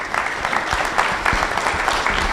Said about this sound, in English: A round of an applause for the panelists